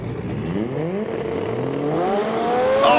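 Drag racing cars launching off the start line at a Japanese-car drag series, engines roaring and climbing rapidly in pitch through quick gear changes, loud and building over three seconds.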